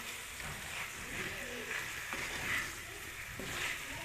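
Fried brinjal (eggplant) gently stirred into masala in a pan, a steady close sizzle of frying with soft scraping stir movements, continuous throughout.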